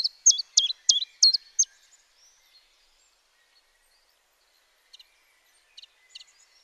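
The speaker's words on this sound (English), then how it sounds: "It's singing chiff, chiff, chaff, chiff, chaff, chiff, chaff" A chiffchaff sings a run of clear, repeated two-note chirps, loud and close at first, then falls quiet before a few fainter, more distant notes follow.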